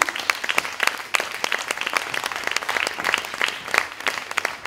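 An audience applauds a stylist's team called onto the stage at a salon event, brisk clapping with sharp individual claps standing out, continuous and fairly close for a few seconds.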